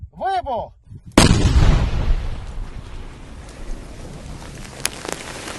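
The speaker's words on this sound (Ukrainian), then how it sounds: "Зараз буде готуватися до знищення шляхом вибуху" A brief voice is heard before a powerful controlled blast destroys an unexploded drone in Kupiansk, its deep roar and crackling debris rolling on and slowly fading into the distance.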